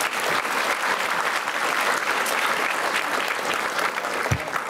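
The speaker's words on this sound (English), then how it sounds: "let's give them a big round of applause right off the bat." Sustained applause from a large gala audience at a business chamber of commerce annual meeting, dense steady clapping filling the room for several seconds without pause.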